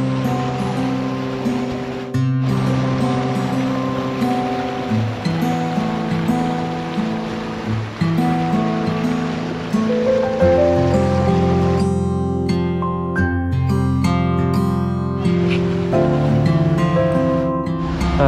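River water flows and splashes at Sungai Tua in Ulu Yam, a continuous rushing wash that lasts throughout, with shifting tonal noise mixed in underneath.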